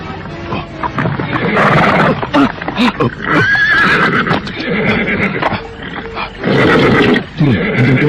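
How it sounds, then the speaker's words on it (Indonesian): A frightened horse whinnies and neighs in a drama scene with hoofbeats and background music, its cries rising loudly among voices that talk throughout. "Kenapa kuda ini tiba-tiba saja meringkih-ringkih ketakutan, Kakang?"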